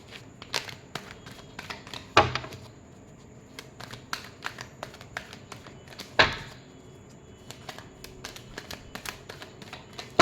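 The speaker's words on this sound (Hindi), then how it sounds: "Last shuffle." Tarot cards being shuffled by hand at close range, a steady run of soft papery riffles and taps with two sharper, louder card snaps standing out in a quiet room.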